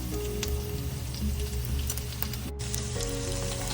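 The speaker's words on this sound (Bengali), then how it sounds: "পেঁয়াজটা একটু ভেজে নিয়ে নুনটা দেবো" Onion with ginger, garlic, turmeric and Kashmiri chilli powder frying in a pan gives a close, continuous crackling sizzle with dense pops and a steady low rumble underneath, no talking.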